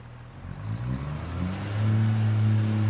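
A Class 142 diesel railbus in Train Simulator pulls away, its engine note rising as it accelerates into a loud, steady drone with rising tones, close and without talk.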